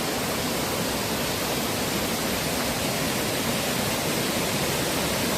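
Steady rushing water of a valley stream flows continuously, a dense, even hiss like a small cascade, with no voices.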